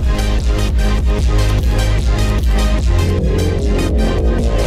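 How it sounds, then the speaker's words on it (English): Loud, driving soundtrack music of a Skibidi Trashcan episode, with a heavy thumping bass beat and pulsing rhythm, plays continuously without any voices. "the soundtrack is thumping on this"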